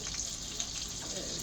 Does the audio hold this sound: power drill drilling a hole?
no